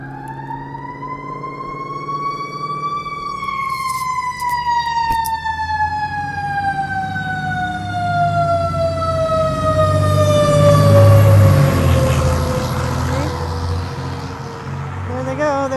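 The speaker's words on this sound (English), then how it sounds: "they send the fire truck and the ambulance" A fire truck siren wails loudly over a rumbling engine, its pitch sliding down as it passes close by, with an air horn blast midway.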